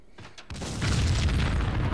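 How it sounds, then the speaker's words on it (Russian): An explosion in the video game Max Payne 2: a short click and thud, then a loud, rumbling boom that swells and holds to the end. "Еще один взрыв"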